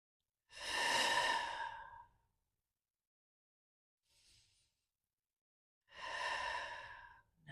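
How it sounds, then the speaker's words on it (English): Slow, deep breaths during a gentle yoga flow, heard as two long, airy exhales a few seconds apart with a faint short breath between them, close and clear with no talking. "So take a couple more of those conscious deep breaths."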